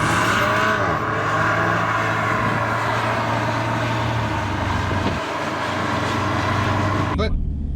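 A Volkswagen Golf 8 GTI drives in sport mode, its engine and road noise a steady loud drone through the cabin, with people talking over it throughout.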